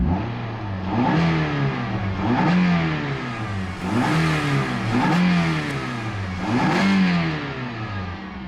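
A 2011 Nissan Rogue engine runs and revs repeatedly, rising and falling in a steady rhythm of about five blips, close and fairly loud with no talking.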